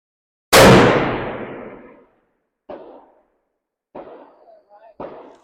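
Begara B14 HMR rifle in .300 PRC fired at a 1000-yard target: one sharp, loud report with a long decaying roll, followed by fainter echoing thumps and a distant impact return over the next few seconds.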